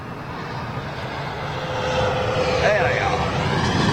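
Engines of a BOAC Boeing 747 roar during departure, a broad distant rumble that swells louder over the last seconds and comes through without clear talking.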